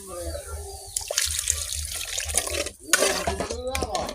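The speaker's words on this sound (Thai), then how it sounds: "แล้วก็น้ำใส่หน่อยนึง" Water is poured into a pan of cooking catfish, a splashing, trickling pour close by that runs for a few seconds with brief breaks, with a voice speaking over it.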